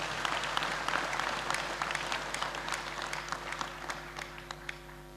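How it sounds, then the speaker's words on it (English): A church congregation claps for Jesus Christ during a deliverance service, dense crowd applause that is fairly loud at first and slowly thins out, with scattered sharp claps standing out over a low hum. "Can you clap for Jesus Christ?"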